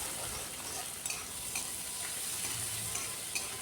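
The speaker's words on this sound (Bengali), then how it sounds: "গোটা জিরে আর পেঁয়াজটাকে খুব ভালো করে একটু ভাজা ভাজা করে নেব।" Whole cumin seeds and onion fry in a pan with a dense, steady sizzle, with a few faint stirring clicks on top; no one speaks.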